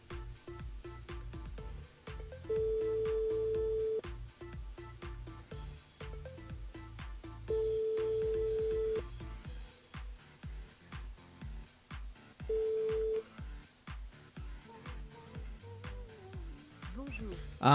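A telephone call rings through on a radio broadcast, with three steady ring tones in a row, the last one shorter, over a low background of music and studio sound.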